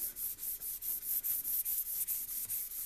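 Sandpaper worked by hand over the bodywork of a 1965 Volvo Amazon, long back-and-forth strokes making a steady rhythmic hiss and scrape, close and fairly quiet, with no talking.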